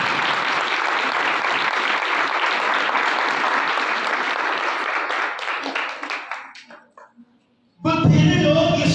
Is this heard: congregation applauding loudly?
yes